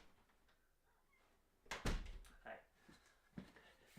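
A house door opens to let a cat in during an indoor live stream, giving a loud thunk and rattle midway, followed by a few softer knocks and bumps against a quiet room.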